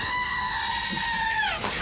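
A screaming goat toy lets out one sustained, bleating scream that holds steady and then bends downward at the end, loud and close, with no talk.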